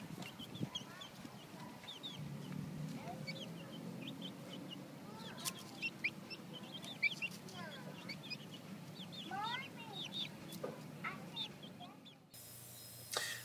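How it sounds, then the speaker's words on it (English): Chickens cluck and chirp outdoors in the sun on their first time outside, scratching in the ground; frequent short calls are spread across a steady background with a low rumble, and the scene cuts abruptly near the end. "we decided to bring the chickens outside for the very first time"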